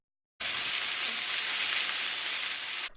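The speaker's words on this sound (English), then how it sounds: "preheating the frying pan with olive oil before adding in the lamb chops" Lamb chops frying in olive oil in a preheated frying pan give off a dense, steady sizzle that starts suddenly and holds evenly for a few seconds.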